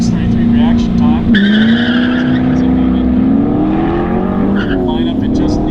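A C6 Corvette Grand Sport leaves the line at a drag racing event, its engine droning loudly with rising pitch and a brief tire chirp, under continuous announcer commentary.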